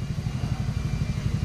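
A 2018 Toyota HiAce van engine runs steadily after starting, a low, even idle with a rhythmic pulsing throb close by, checked while testing a faulty aircon compressor that gives no cooling.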